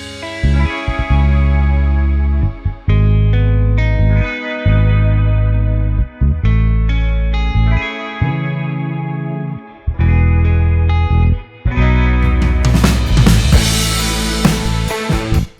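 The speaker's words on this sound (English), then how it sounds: "then we have the Valhalla Vintage Verb, which sounds always really great, but I have it on the Chamber 1979, and it sounds like this with these two guitars" Two electric guitars playing chords and a melodic line, drenched in a vintage chamber-style reverb from a plugin set to a 1979 chamber algorithm, with a lush, spacious tail; the part swells and ends in a brighter, busier crescendo with no talking.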